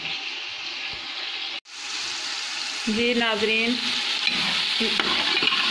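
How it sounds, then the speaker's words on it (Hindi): Bay leaf and whole cumin sizzle and fry in desi ghee for tempering in a home kitchen, a steady loud crackle with stirring scrapes and a brief pause, while someone talks over it. "देसी घी में तेज़पात और साबुत ज़ीरे का तड़का लगाऊंगी।"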